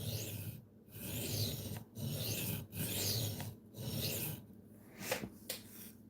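Knife blade drawn repeatedly across a sharpening stone toward the sharpener, a series of close, rasping strokes about a second apart separated by brief pauses, faint and with no talk.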